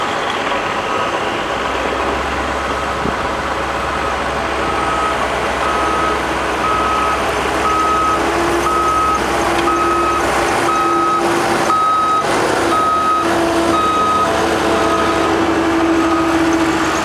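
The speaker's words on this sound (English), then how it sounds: "Skid steer with the broom on is doubling back to take care of any material that the grader may have inadvertently rolled out onto the road" Skid steer fitted with a broom reversing during highway shouldering work, sharp regular backup beeps sounding over a rumbling diesel engine and nearby truck noise, fairly close and loud.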